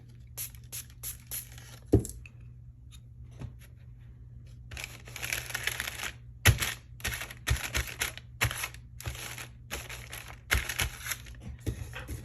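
Distress Oxide ink is sprayed onto a journal page in a series of short, close hissing bursts separated by brief pauses, along with a few sharp clicks and taps.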